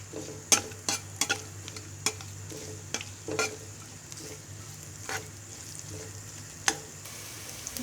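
Quiet frying sizzle in a pan, broken by repeated sharp clinks and scrapes of a utensil stirring at irregular intervals.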